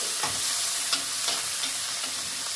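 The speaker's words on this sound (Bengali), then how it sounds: "অল্প করে ভেজে নেব।" Shrimp sizzles steadily in hot oil in a pan, a constant crackling hiss with occasional scraping stirs, close by and with no talking.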